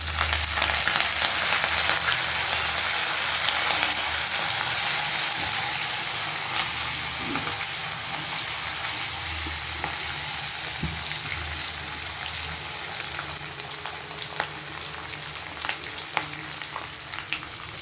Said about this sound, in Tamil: இப்போ எடுத்து வச்சுருக்க பூண்டு சேர்த்துக்கோங்க. பூண்டு சேர்த்த உடனே கருவேப்பிலை சேர்த்துக்கோங்க.